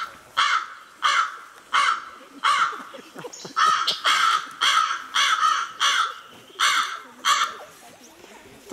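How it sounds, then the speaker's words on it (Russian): A crow caws loudly about a dozen times in a steady rhythm, each harsh call close and clear with short gaps between. "собралась тогда силой и каркнула во все горло"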